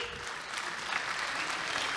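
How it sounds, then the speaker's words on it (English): Crowd clapping at a preschool annual day event, a brief continuous round of applause at fairly even loudness, moderately distant and with no voices over it. "Can we have another round of applause,"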